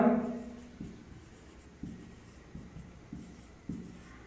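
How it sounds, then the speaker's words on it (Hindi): Pen or marker writing chemical names on a board gives a series of short, distinct scratchy strokes with pauses between them, close and fairly quiet, with no speech over them. "आप लिख भी सकते हैं या फिर मैं लिख देता हूँ"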